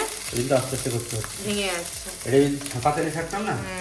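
Soft fish pieces sizzle while being flipped in a frying pan, a steady crackling hiss that sits under continuous close talking from a woman.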